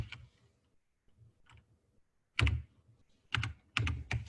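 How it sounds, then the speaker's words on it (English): Keys tapped on a computer keyboard while entering a club number into a search box, a few soft clicks followed by brisk bursts of typing, close and clear with no talking. "instead of typing the name, if you type the full club number"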